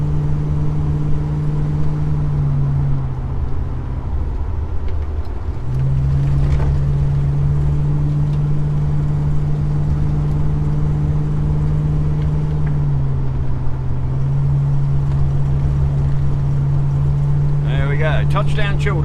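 A car is driven over a corrugated dirt road, giving a loud, steady engine drone with a rough rumbling texture that shifts pitch as it changes speed, heard up close from inside the vehicle, with a voice at the very end.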